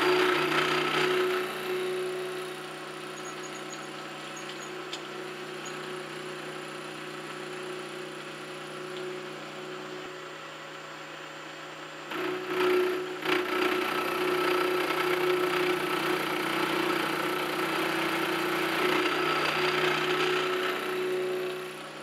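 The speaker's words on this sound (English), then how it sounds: "That way I'm not back and forth with the end mill." A high-speed steel end mill clears stock from a vise part with a steady whirring machine drone and a bright sustained tone, running continuously at moderate level with a brief dip partway through.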